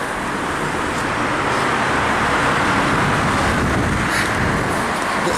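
Dense, steady roar of traffic on a wide multi-lane road, loud and continuous, with vehicles rushing past close by.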